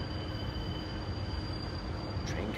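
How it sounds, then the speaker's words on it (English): A train rolls in at a rail yard, its wheels giving a thin, sustained high squeal over a continuous low rumble of rolling cars, steady and fairly close, with no one talking. "train coming in, got a lot of action this morning. It's the squeaky wheels you hear behind me."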